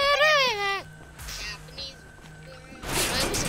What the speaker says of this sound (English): I heard goat.